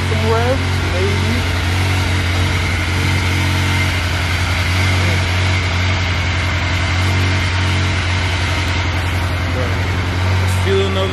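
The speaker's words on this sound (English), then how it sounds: "Maybe get some revs, maybe." A sports car engine, cold, idling with a deep, steady rumble that rises slightly in bursts of revving, loud and close throughout.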